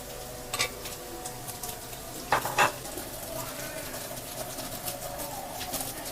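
Oil heating and starting to fry in a kadai, a low steady sizzle close by with a few brief clinks and scrapes of a utensil against the pan.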